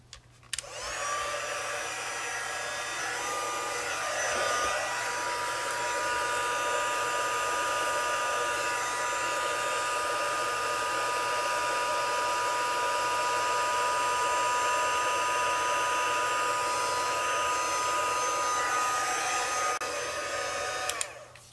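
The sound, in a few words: heat tool melting embossing powder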